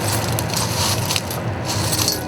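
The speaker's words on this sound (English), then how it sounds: "Bruce dips it into the broken pieces of glass" Hot glass on a pole dipped into a pile of broken blue glass pieces, giving a steady dense crunching and crackling like a crisp packet, close and continuous throughout.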